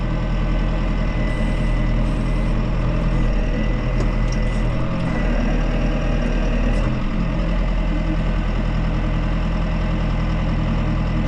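A tractor engine running steadily in a cow pasture near town, a continuous loud idling rumble heard up close with no talking.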